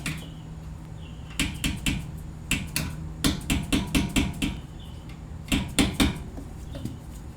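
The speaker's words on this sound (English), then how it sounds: "Just hammer away." A mallet striking a punch tool against a brake pin on an Audi R8 during a brake pad change, sharp metallic knocks in quick repeated bursts of several blows, close and loud with short pauses.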